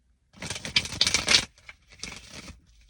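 Tarot cards riffled in a quick, crisp burst of rapid flutters, a short pause, then a second softer shuffle, close and with no talking.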